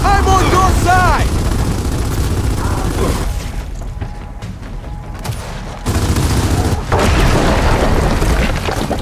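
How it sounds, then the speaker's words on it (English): Gears of War 4 combat: loud booming blasts from a frag grenade explosion, with rumbling gunfire around it and voices talking over the action. "We gotta get a frag in there!"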